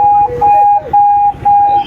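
An ambulance siren in San Pablo City, Laguna blares close and loud, repeating a steady two-tone wail in four quick cycles.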